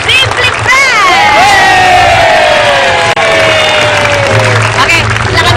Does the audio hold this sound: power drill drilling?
no